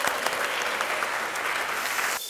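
Audience applauding at a district office anniversary event after a game, a steady dense wash of clapping that cuts off abruptly near the end.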